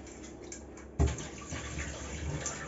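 Running tap water splashes over an oily cut of meat as it is rinsed in a kitchen, a soft burst starting a second in and continuing as a steady close wash, no talking.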